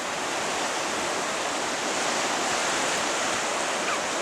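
Sea waves wash in continuously at the water's edge on Utah Beach in Normandy, a steady broadband rush of surf heard up close and alone, with no voices.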